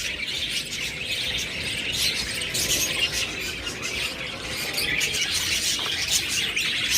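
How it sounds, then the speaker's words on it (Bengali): Lovebirds and budgerigars in a bird shop chirp and squawk constantly, a busy, close chorus of overlapping shrill tweets with no talking. "অনেক লাভবার্ড রয়েছে, বাজরিগার পাখি রয়েছে।"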